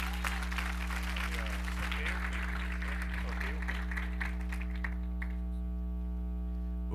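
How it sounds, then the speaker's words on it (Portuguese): A church congregation claps in praise during a Portuguese-language service, with steady applause over a low electrical hum that trails off into quiet hum alone near the end. "Você pode aplaudir o Senhor?"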